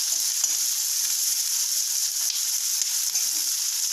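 Onions fry in hot oil with a steady, dense sizzle that holds at an even level throughout, with no talking.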